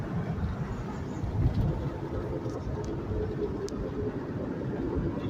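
Steady low road and drivetrain drone from a 2004 Toyota Sienna under way, with a suspected bad CV axle or wheel bearing, a continuous rumble of fairly even loudness and no talk.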